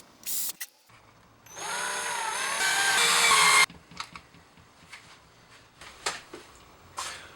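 A power drill whines steadily for a few seconds, rising in pitch, pre-drilling holes in a cigar box guitar, followed by scattered knocks and clicks of screwing the bridge onto the wooden lid.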